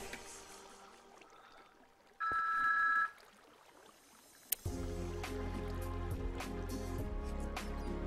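A telephone rings briefly at close range in a quiet room, one short electronic ring with steady tones, during a German Minecraft Let's Play session. It is followed by a louder, continuous game sound.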